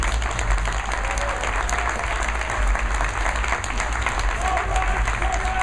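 Sustained audience applause at the National Speakers Association CSP award ceremony, dense steady clapping from a large crowd filling the hall without a break.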